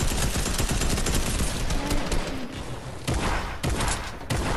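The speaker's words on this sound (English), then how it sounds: "More people shooting." Rapid gunfire in the video game Fortnite, dense automatic bursts and shots that are loud and continuous, with brief gaps breaking the barrage.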